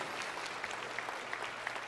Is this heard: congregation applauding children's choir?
yes